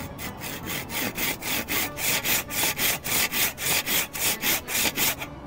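Rhythmic back-and-forth strokes of a hand saw cutting through wood, close and steady, about three strokes per second with no talking.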